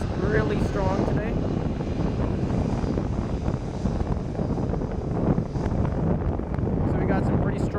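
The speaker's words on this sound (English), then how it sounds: "if you can hear the wind, it's really strong today" Strong, gusty wind at Portland airport on a gloomy day, a loud steady roar that buffets the microphone throughout, with no talk.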